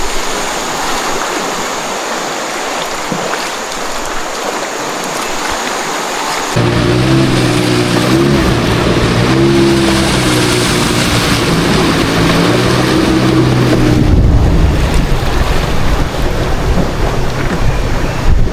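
Piang river flowing steadily past a rainforest camp in cold early-morning air, a loud continuous rushing wash with a low droning hum joining partway through.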